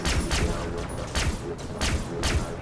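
Rapid, punchy shots from a gun in Far Cry 3 Blood Dragon repeat in a steady rhythm of loud, close bursts, with a voice faintly audible underneath.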